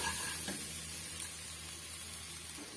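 Mixed vegetables coated in chili powder being stirred in a hot pan for a lentil curry, giving a steady soft sizzling hiss with faint scraping, close but fairly quiet.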